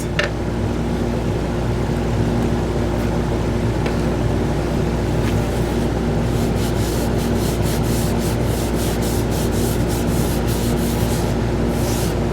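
Continuous loud rubbing of Yorkshire Grit abrasive paste against a spinning ipe wood box on a lathe, a steady whooshing rasp that gains a rhythmic pulsing in its second half.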